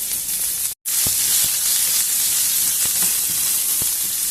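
Onion pieces frying in a pan for egg rice give a steady, close, loud sizzle and hiss, with occasional soft pops and a split-second gap near the start.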